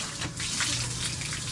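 Water runs steadily from a shower as a broad, continuous hiss that stays fairly even in level, with no talk over it.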